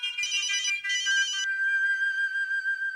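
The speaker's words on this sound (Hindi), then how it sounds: "फोन बज रहा है।" A telephone ringtone chirps in two quick electronic bursts, then settles into a steady sustained tone, loud and close with no talking over it.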